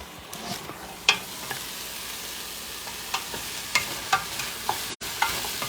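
A spoon stirs a squash, tomato and lentil soup base in a pot, giving close, irregular scraping strokes over a low, steady sizzle.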